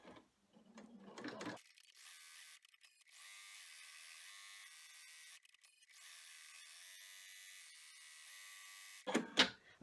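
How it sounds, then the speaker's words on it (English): An embroidery machine runs a placement stitch on fabric for an accordion wallet, whirring with a faint rapid mechanical buzz that starts and stops, ending in a brief louder clatter. "let's get started with the placement stitch"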